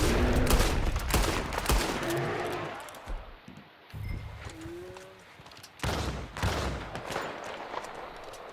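Rapid pistol shots fired at a legendary bear in Red Dead Redemption 2, sharp close bursts in two clusters separated by a quieter stretch with game noises.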